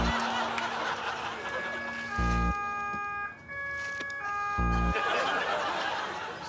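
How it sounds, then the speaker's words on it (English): A steady wailing siren with sustained tonal notes runs throughout, fairly loud, with a couple of low thumps and background noise. "That's the siren."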